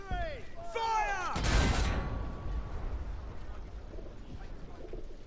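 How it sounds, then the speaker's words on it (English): A heavy artillery volley in the World War I shooter Battlefield 1, a loud booming blast rolling out after an earlier shouted voice, followed by a fading low rumble and distant battlefield noise. "All artillery! Fire!"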